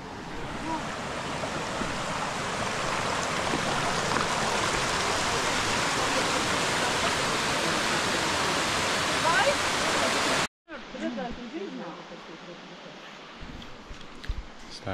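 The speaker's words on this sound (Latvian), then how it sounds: "Šīs ir tas lielais ūdenskritums," Large waterfall in Poland, a loud, steady, broadband roar of rushing water that cuts off abruptly near the end and gives way to quieter background sound.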